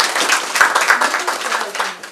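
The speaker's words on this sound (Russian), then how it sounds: "Благодарность главы была встречена бурными аплодисментами." Loud, dense applause from an election-night audience fills the short stretch, a continuous wash of clapping hands with some voices mixed in.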